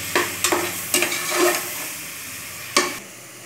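Turmeric and salt sautéing with spices in a pan for country-chicken rasam, giving a steady sizzle with a few sharp spatula scrapes and clacks near the start, plus one louder stir later on.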